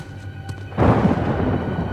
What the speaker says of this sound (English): Oh no, lightning.